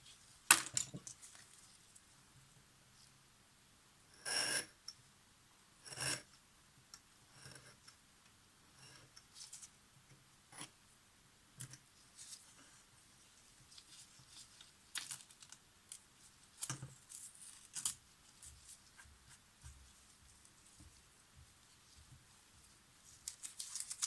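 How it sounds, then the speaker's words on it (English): Replacement shutter curtain material for a Zorki 6 camera being cut: scattered soft snips and clicks, close and quiet, coming in irregular bursts with pauses between, no voices. "so I will cut right through the middle"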